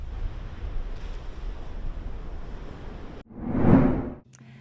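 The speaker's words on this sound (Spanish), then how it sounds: "autoridades previenen sobre puntos donde se presenta más fuerte el oleaje" Strong ocean surf at a beach where red flags restrict swimmers. A steady roar of breaking water and wind fills the air, then one larger wave swells loudly and fades away near the end.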